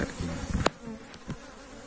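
Tawon gandu bees buzzing around their nest, a steady close insect drone with a brief louder pass as one flies near the microphone.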